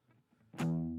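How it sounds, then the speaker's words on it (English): An electric guitar run through a distortion effect hits a sudden, loud, sustained chord with a gritty buzzing edge, after a moment of faint low rumble. "We're on distortion right now."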